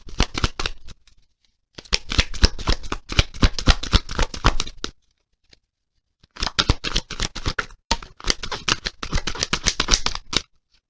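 Tarot cards are shuffled by hand in two long runs of rapid, crisp riffling and flicking, close and clear. A short quiet pause separates the two runs, and no voice is heard.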